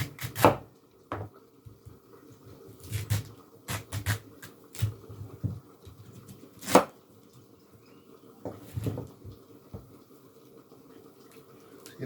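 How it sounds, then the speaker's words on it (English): Taro is cut with a knife on a board, giving irregular, dull, close thuds and scrapes spread through the clip, some single and some in quick pairs, under faint kitchen background. "Just gonna cut our taro around."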